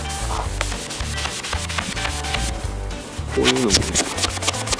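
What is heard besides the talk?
polishing a used Yamaha STR-15 boat surface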